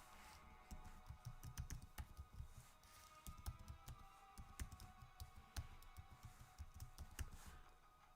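Keys clatter on a computer keyboard as a link is typed out, a quiet, close run of quick irregular taps and clicks with brief pauses between bursts.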